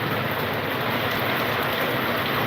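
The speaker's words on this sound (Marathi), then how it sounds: "कंटिन्यू पाऊस चालू आहे" Heavy monsoon rain pours down steadily in Latur, a dense, loud hiss of drops with no pauses and no voices.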